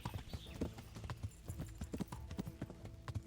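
Horse hooves clip-clop in the medieval game Kingdom Come Deliverance, a quick, steady rhythm of close, fairly quiet hoofbeats.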